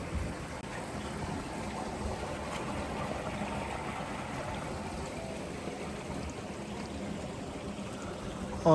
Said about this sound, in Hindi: ये पानी की आवाज़ सुने